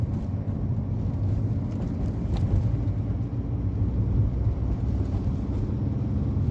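Car engine droning steadily while driving, the driver skipping from second straight to fourth gear; a constant low rumble with no clear shift break, close and fairly quiet.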